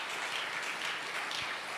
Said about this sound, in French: Nous acclamons.